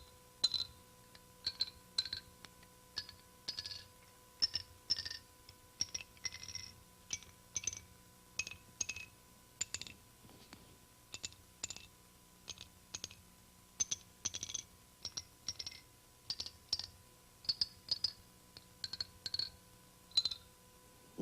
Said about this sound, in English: An array of sticks cut to certain length, and I'm going to drop them successively.